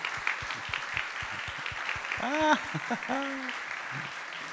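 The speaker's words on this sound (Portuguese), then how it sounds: "uma salva de palmas" Audience applause at a lecture-talk event, moderately loud and steady scattered clapping across the clip, with a voice briefly speaking over it midway.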